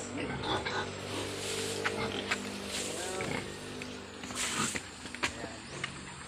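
Pigs grunt and squeal in a hot, dry farm pen short on water, rough irregular snorts and calls scattered across the clip amid background noise and faint voices.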